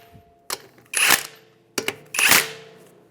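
Lug nuts on a 2007-2013 Acura MDX wheel being snugged up before final torquing, likely with an impact tool. Two close bursts each start with a sharp clack, followed by a brief loud rattling whir.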